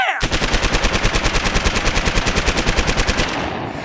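Cartoon AK rifle fire: a rapid, steady, loud automatic burst of about thirty evenly spaced shots lasting over three seconds, then a brief fading tail.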